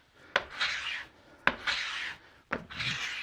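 Three rough rasping bursts of a sanding disc grinding on the wooden top of a Hamilton drafting table, each starting with a sharp contact and lasting about a second, separated by short pauses.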